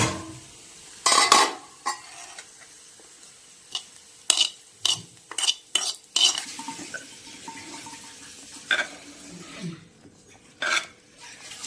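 Dried red chillies and onions fry in a pan for a Kerala rice chutney. A utensil stirs and scrapes against the pan in uneven clanks over a soft, steady sizzle, up close with no talking.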